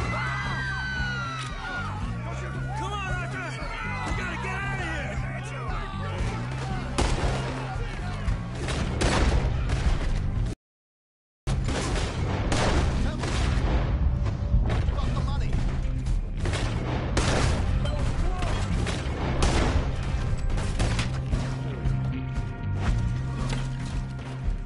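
Repeated gunshots ring out in the Western video game Red Dead Redemption 2, dense and irregular, with characters shouting throughout and a brief silent gap partway through.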